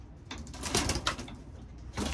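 Racing pigeon cooing softly in a one-loft race setting, with a few low murmured coos and faint flutters in a short, quiet stretch.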